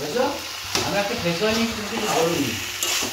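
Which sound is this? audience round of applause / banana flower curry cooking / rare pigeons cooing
banana flower curry cooking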